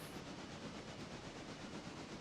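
A train in the Railroader simulation game rumbles steadily, a dense continuous rolling noise with faint hiss and clatter, fairly loud and unbroken with no voices.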